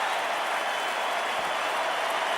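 Stadium crowd at an NFL game between the Indianapolis Colts and Atlanta Falcons applauding Warrick Dunn, a steady wash of clapping and cheering that holds at an even, loud level throughout.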